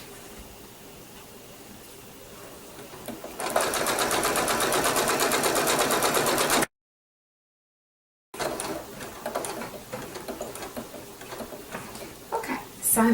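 A sewing machine runs a blanket stitch along a quilt binding, a loud rapid rhythmic whirring that stops abruptly, then resumes after a short silence with lighter stitching and handling noise.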